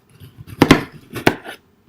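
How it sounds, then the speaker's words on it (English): A knife slicing a fruit half into pieces on a cutting board while preparing detox water, giving a few sharp close chops in two quick clusters, then quiet. "you're going to take a half of it and you're going to cut it into pieces"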